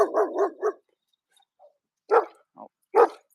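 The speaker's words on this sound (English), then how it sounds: "Here come a dog." A dog barks nearby in short bursts, three quick barks followed after a pause by a few more, loud against an otherwise quiet outdoor setting.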